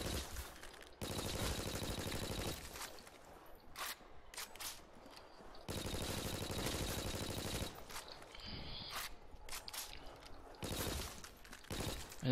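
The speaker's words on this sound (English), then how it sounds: "So there was a reload empty animation." Weapon reload animation sounds for a TMP submachine gun in Call of Duty: World at War, a series of close mechanical clicks and clacks in separate bursts with short gaps between them.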